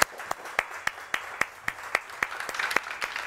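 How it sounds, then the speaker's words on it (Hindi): Sparse, evenly spaced hand claps at a Pakistani morning TV show, about a dozen sharp claps over a soft background rather than a full ovation from the audience. "मैं चाहूँगी कि सारी औरतें बहुत ज़ोरदार तालियां बजाएं"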